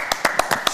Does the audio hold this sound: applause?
yes